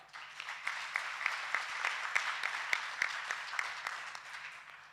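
A crowd at a World AIDS Day celebration in KwaZulu-Natal claps at a moderate distance, a steady run of hand claps that peaks midway and then fades toward the end, with no voices.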